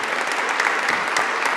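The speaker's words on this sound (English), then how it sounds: "Can we give them a round of applause?" A room full of people at a city government event applauds in a brief, dense burst of clapping that stays steady and even from start to finish.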